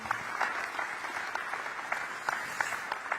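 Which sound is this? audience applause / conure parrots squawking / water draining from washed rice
audience applause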